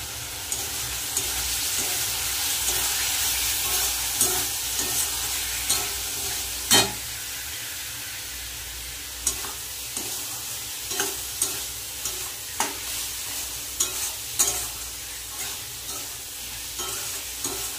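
Turmeric, chilli powder, cumin powder and salt are stir-fried together in a pan under a constant close sizzle, punctuated by regular scraping knocks of the spatula throughout.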